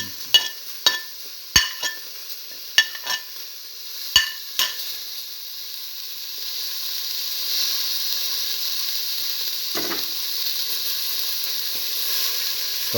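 Tomato pieces sizzle steadily in a frying pan for a mint scrambled egg tomato stew, opening with a string of sharp utensil knocks and stirring taps before settling into an even, close hiss.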